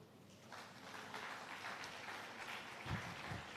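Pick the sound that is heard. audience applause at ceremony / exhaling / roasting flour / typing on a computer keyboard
audience applause at ceremony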